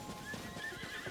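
A short, quiet horse whinny mixed with hoof steps from the video game Zelda: Tears of the Kingdom, heard alone for about a second.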